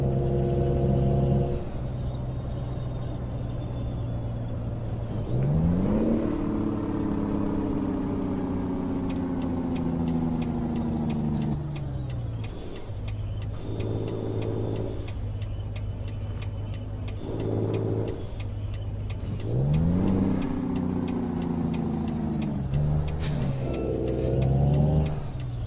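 A heavy truck engine in American Truck Simulator revs and drops through gears. Rising and falling harmonic whines recur every few seconds over a steady low rumble, with hissing air-brake-like bursts near the start and the end, loud and close, with no voices.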